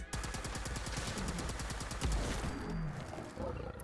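Full-auto bursts from an Institute pulse carbine in Fallout 4, a fast run of loud, evenly spaced shots for about two seconds, then a heavy low roar and creature noise as the shooting thins out.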